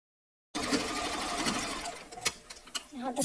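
A sewing machine runs steadily, stitching elastic into the back side of a dress, with a continuous whirring hum that keeps up after a brief silence and then turns uneven with short bursts toward the end.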